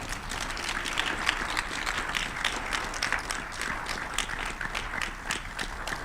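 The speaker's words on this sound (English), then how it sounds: "I want you all to give these students a round of applause" An audience at a university keynote event applauds students, a steady dense wash of many hands clapping that carries on without a break.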